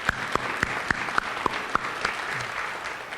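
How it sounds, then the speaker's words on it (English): Families and students clap at a high school awards ceremony, a moderate room-filling applause with a few sharp, rhythmic close claps standing out over the crowd. "how about we give our families a big round of applause and thanking them for being here today"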